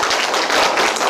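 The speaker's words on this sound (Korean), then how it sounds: "다시 한번 박수." A burst of applause, dense hand clapping from a crowd, loud and continuous with no voices.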